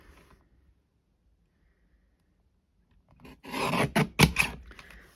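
A paper trimmer slices through cardstock, a short rasping cut lasting about two seconds after a near-silent pause, close and crisp, ending in a sharp scrape.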